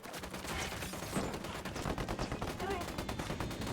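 Video game gunfire during a firefight with rebel hostiles, rapid bursts of automatic shots and scattered single cracks, loud and close, with voices talking and shouting over the shooting.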